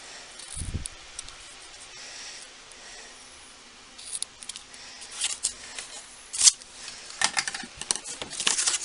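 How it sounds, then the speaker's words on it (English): Scissors cutting pieces of ribbon, a few sharp close snips that cluster toward the end, with soft rustling and handling noise between them. "I'm just going to get my ribbon out again. And just cut a few pieces."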